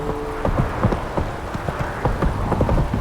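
Horse hoofbeats in The Witcher 3 video game, a steady rapid clip-clop of galloping close up, repeating throughout over a low ambient hum.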